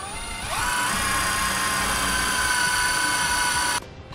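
A power drill drives a number 14 self-tapping screw to secure a hydraulic brake line, giving one close, steady high-pitched whir that rises slightly as it bites, holds for about three seconds, then cuts off abruptly.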